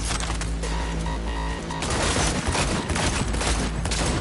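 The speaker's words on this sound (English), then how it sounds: "The shooting's really crisp" Dense, loud bursts of rapid gunfire from the video game Cyberpunk 2077 on PS5 run continuously in close, crisp volleys.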